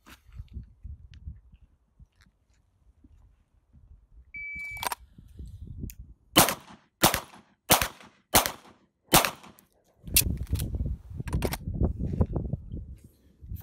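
Pistol shots from a Beretta fired at a steel target on an outdoor range, six sharp reports in a quick, evenly spaced string, loud and close, with rustling before and after.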